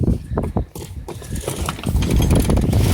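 Mainsail traveller on a sailboat let down at the start of a single-handed tack, heard as a close run of clicking, rattling block and car mechanism noise over a rising wash of wind and water.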